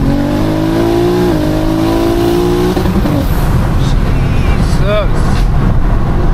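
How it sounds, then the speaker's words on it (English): A 1400 bhp BMW M3 Touring on low boost and pump fuel roars loudly as it accelerates hard in second gear, its pitch climbing steadily, with a sharp shift partway through and a loud engine-dominated wash after. "Let's go second gear and give you a little idea of how it sounds like."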